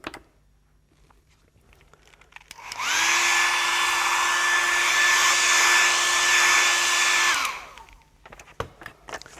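A hair dryer drying a painting switches on, blows with a loud steady whine and rushing air for about five seconds close by, then shuts off.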